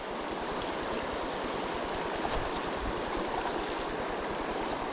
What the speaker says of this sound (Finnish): Huomaa, että on joki.